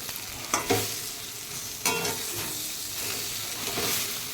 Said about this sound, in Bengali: পেঁয়াজ দিয়ে ভাজতে বলেছে এই যে ভাজছি প্রায় হয়ে গেছে